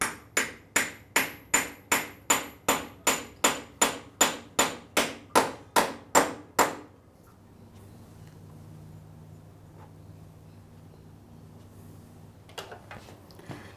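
An oil seal on a Gilera Saturno motorcycle's primary drive is driven into place with a reversed sprocket, giving about eighteen sharp, evenly spaced metallic taps, followed by quiet room tone and faint handling noises.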